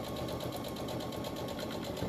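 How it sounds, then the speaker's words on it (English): Sewing machine running steadily while chain piecing quilt-block fabric pieces, a continuous close mechanical whir with fine rhythmic ticking throughout. "So I'm chain piecing these for quickness."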